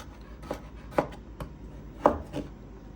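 Knife chopping garlic cloves on a cutting board, a handful of crisp, irregular taps spaced a beat apart, close and fairly quiet.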